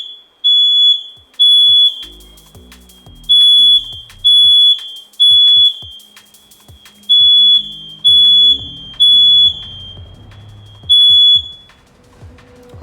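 A smoke alarm in a room shrills in repeated loud, piercing beeps, sounding in short bursts with brief gaps and occasional faint clicks between them, no voices present.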